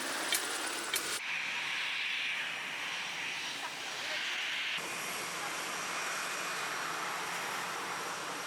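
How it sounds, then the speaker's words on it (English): Jet airliner roaring low over Maho Beach, St Maarten, a loud continuous broadband rush that swells for a few seconds and then settles into a steady, sustained engine roar filling the whole clip. "We've had a couple of planes fly over and take off."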